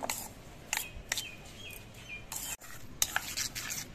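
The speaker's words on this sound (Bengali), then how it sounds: "এবার সব কিছু দিয়ে ভালো করে মিশিয়ে নেব।" Spiced potato dough for luchi being worked by hand with a splash of water, producing scattered soft squelches and clicks at close range, with quiet gaps and a faint chirp or two in the background.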